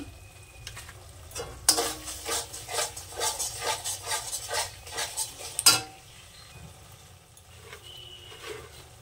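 Spice masala with red chilli powder and yogurt being stirred and sautéed in a pan for an aloo paneer dalna, a steady sizzle with rhythmic scraping stirs over about four seconds, then a quieter simmer.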